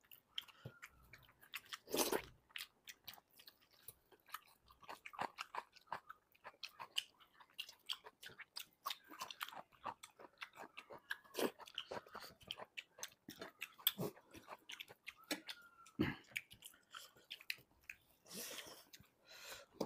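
Close, crisp chewing and biting of rohu fish with rice, steady moist crunches and smacks repeating irregularly throughout, alone with no talk.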